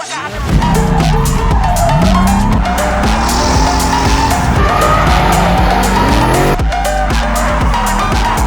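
A Nissan 240 drift car skids on a track, its tires squealing long and loud over a high-revving engine whose pitch rises and falls through the slide, close and continuous.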